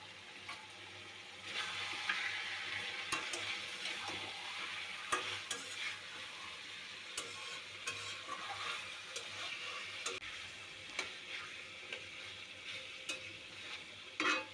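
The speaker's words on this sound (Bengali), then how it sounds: "তেলের মধ্যে ভালো করে ভেজে নেব পেঁয়াজের সাথে, একদম সুন্দর করে ভেজে নেব মাংসটাকে" Broiler chicken meat fries in oil with onions, giving a soft, steady sizzle with frequent scraping stir strokes and light clicks of a utensil against the pan.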